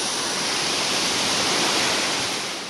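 Rani Duduma waterfall in Odisha, pouring down in two streams, gives a steady, loud, broadband roar of falling water that holds unbroken throughout with no voices.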